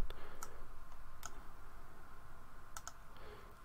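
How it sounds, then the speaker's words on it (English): A computer mouse double-clicks to open a PDF file on a desktop: a few crisp, close clicks, with a quick pair near the end, over a steady low room hum. "Double clicking to open it."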